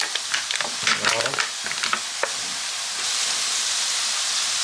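Bacon lardons frying in a pan: brisk stirring clatter and crackling for the first couple of seconds, then an even, steady sizzle hiss with no talking.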